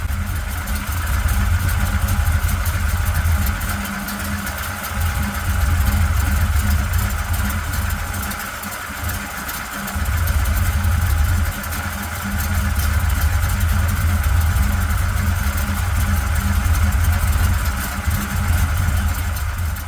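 A leaking crate engine in a 1955 Chevy idles steadily with a low rumbling drone and a faint hiss, holding a constant level throughout with no voices.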